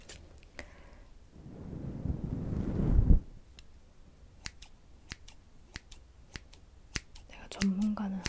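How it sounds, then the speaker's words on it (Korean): Blunt scissors cut hair bangs with sharp, close snips that come in an irregular series. A soft rushing swell sits in the middle, and a brief low sound comes near the end. "좀더 뭉툭한 가위로"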